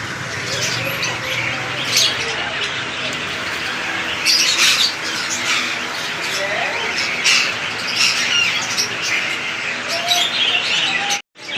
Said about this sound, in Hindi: और ये पैरट हैं जी।